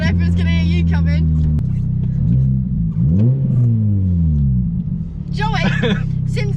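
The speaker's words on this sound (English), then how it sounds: "since getting this Cobra exhaust on, it pops a lot more, doesn't it?" Mini Cooper with a Cobra custom exhaust, heard close up with a deep rumbling drone that swells and falls through revs and gear changes, popping on lift-off; people talk over the steady engine note.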